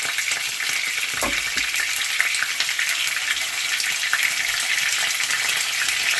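Pork carnitas frying hard in a pan, a loud, dense, close sizzle with constant crackling and popping spatter that holds steady throughout, a low thump near the start, no talking.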